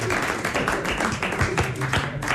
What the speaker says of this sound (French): Il y a eu quelques applaudissements.